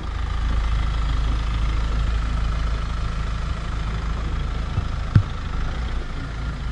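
A Mahindra Thar engine idling steadily in four-low during an off-road drive, a loud continuous low rumble close by with one brief knock near the end and no talk.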